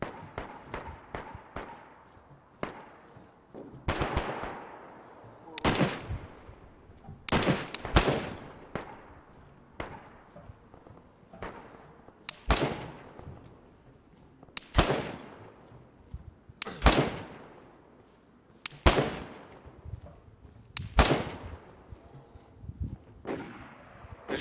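Sniper rifle shots ring out in the video game DayZ, about a dozen loud, sharp cracks with long echoing tails, spaced irregularly across the stretch, some nearer and some farther off in a wooded setting.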